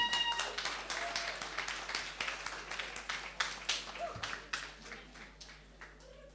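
Audience at a song contest applauds a performer, a quiet, fairly distant wash of many clapping hands that swells slightly and then gradually thins and fades.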